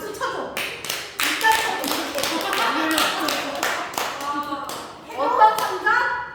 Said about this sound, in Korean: 박수 쳐줘.